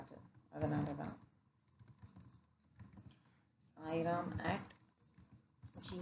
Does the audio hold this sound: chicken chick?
no